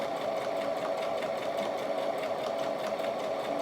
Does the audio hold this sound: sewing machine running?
yes